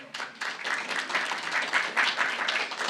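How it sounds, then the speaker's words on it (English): An audience at a talk breaks into steady, dense applause, many hands clapping at once across the room, fairly loud and continuous with no speech over it. "Let's welcome him with a round of applause."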